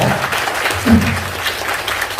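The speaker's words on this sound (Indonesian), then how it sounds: "Nah, tepuk tangan buat BBM ya." A seminar audience claps loudly and continuously in a hall, with a brief voice rising over the steady applause partway through.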